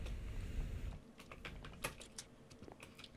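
Rapid typing on a computer keyboard during a Minecraft OverCast Network match, with quick, irregular clicks close to the mic that follow a brief burst of louder background noise.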